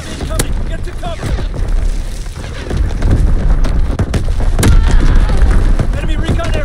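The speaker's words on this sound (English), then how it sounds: "Enemy bomb incoming. Get to cover." An enemy bomb explodes in a war video game, with heavy booming blasts and rumbling impacts mixed among gunfire and battlefield clutter, loud and close, while game voices call out over the noise.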